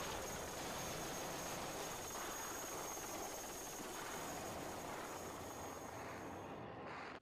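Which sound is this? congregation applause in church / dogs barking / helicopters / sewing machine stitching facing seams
helicopters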